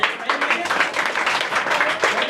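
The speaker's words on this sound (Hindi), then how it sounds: "जोरदार ताली बजाएंगे" Loud, dense applause from a coaching-class audience at a Teachers' Day event in a Muzaffarpur village, steady bursts of clapping filling the whole stretch with a voice faintly mixed in.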